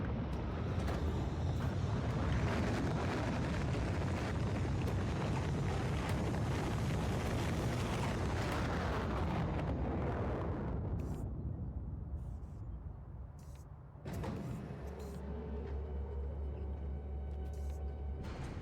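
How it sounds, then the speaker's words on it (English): A rocket launch in the modded factory-building game Factorio with Krastorio 2, heard as a loud sustained roaring rumble that thins out near the end, followed by quieter steady machinery hum. "It's going to get loaded into the rocket. The rocket's going to launch."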